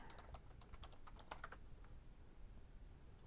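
Rapid clicks of a computer keyboard during a game development session, quiet and close, in quick bursts that stop after about two seconds, leaving low room noise.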